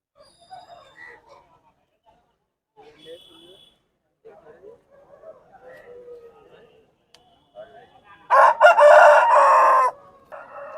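A rooster crows once, loud and close, for nearly two seconds at a Saturday country-chicken market in Mamidada, after a stretch of soft chatter and faint clucking where people bargain in the background.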